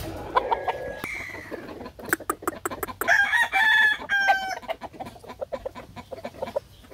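Several game farm rooster crows ring out, loud and close, with scattered hen clucks and clattering noise between them.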